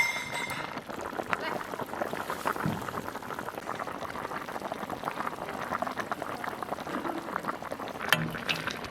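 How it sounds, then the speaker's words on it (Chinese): A big beef leg simmers on low heat in a lidded pot with soy sauce, peppercorns and salt, giving a steady close bubbling with a few faint clinks and no clear talk. "盖上锅盖，小火炖3个小时"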